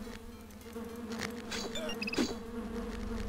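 Insect-like buzzing of bees in the fantasy role-playing game Land of Lore, a steady drone with brief tonal chirps and clicks layered over it, with no talking.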